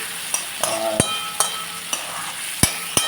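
Pav bhaji vegetables fry in a pan with a continuous sizzle, broken by regular sharp knocks and scrapes of a spoon stirring against the metal roughly every half second.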